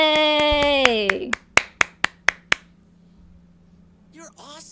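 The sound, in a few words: person clapping hands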